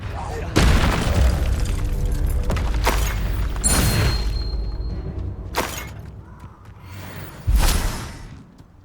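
Confringo fire spell blasts in the Hogwarts Legacy video game, heard as several heavy booming explosions with shattering bursts, spaced a few seconds apart, each decaying into a rumbling tail, with a quieter stretch between the later blasts.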